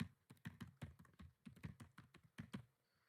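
Rapid, close keystrokes on a computer keyboard as an email address is typed, a steady patter of taps in short bursts before falling silent.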